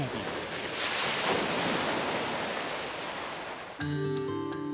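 Waves built up along a 300-metre wave channel, capable of forming waves of 4.5 metres, surge in a loud, steady roar of rushing water that runs for about four seconds before cutting abruptly to a different sound.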